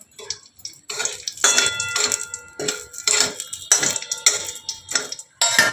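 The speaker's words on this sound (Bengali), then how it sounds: "দুটো লঙ্কা ভেজে নেব।" Two chillies fry in hot oil, giving bursts of crackling, spitting sizzle that rise and fade in uneven pulses, close up with no talk.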